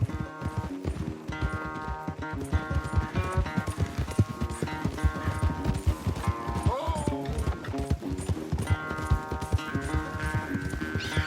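Horses gallop in a race in Red Dead Redemption 2, rapid rhythmic hoofbeats pounding close and loud throughout, mixed with music and occasional speech.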